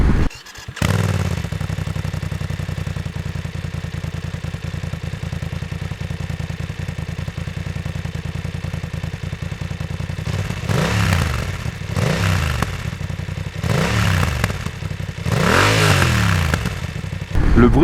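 BMW F900XR motorcycle with an aftermarket exhaust idling loudly and steadily from a cold start, close by, then several sharp throttle blips rising and falling in quick succession near the end.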